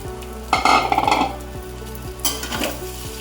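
A ground lentil paste hits a pan of onions, bursting into a loud sizzle that quickly settles. A spoon scrapes and clinks against the pan, then a second surge of frying and stirring comes near the end.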